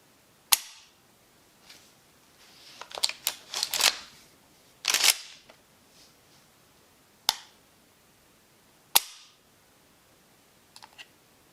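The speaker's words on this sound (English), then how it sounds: "The trigger is smooth and crisp. Just hear it." Several sharp, isolated metallic clicks of a shotgun trigger dry-firing, spaced a second or two apart, with some handling rattles between them, close and crisp.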